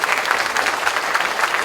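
An audience at a festival opening at Château Plaisir, France, claps in a dense, steady burst of applause that stays loud and even from start to finish.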